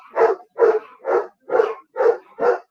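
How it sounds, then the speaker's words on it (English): Dogs bark loudly and close by in six evenly spaced, sharp woofs, each a short burst with brief silence between, no other sound present. "My loud ass dogs."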